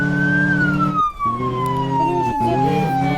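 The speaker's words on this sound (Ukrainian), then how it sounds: "Так, включаємо сиренку і їдемо." A police car siren in a shooting video game, a loud wailing tone that slowly falls in pitch over a running engine, briefly interrupted twice, close and dominant throughout.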